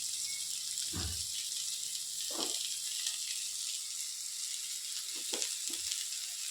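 Goru chikkudukaya cluster beans frying with lentil powder, a steady hiss of oil with a few soft stirring clunks, quiet and close with no voices.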